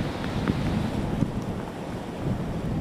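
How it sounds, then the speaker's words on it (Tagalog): Strong typhoon wind buffets the microphone in a continuous roar over surging sea waves and rain on the Zambales coast, with no one speaking. "Sa mga oras na ito ay napakalakas ng hangin at ulan."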